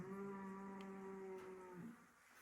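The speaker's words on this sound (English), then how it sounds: "Cow's not impressed." A cow lets out one long, loud moo lasting almost two seconds, close by at an outback woolshed in Western Australia, then trails off into quiet.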